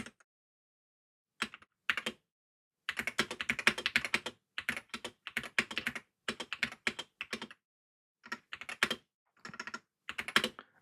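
Keystrokes on a Wooting 60HE+ keyboard come in quick bursts of clicky taps separated by short pauses, close and crisp, with no voices.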